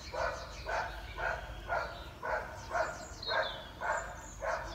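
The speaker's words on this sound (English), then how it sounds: "there's my dog barking at a delivery man" A dog barks indoors in a steady run of about nine evenly spaced, moderately loud barks at a delivery man, with no talking over it.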